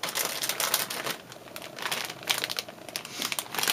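Crinkly plastic cloth from a 1/100 Master Grade Gundam Exia Ignition Mode kit rustles and crackles up close, with continuous dense crackling that swells and eases a few times.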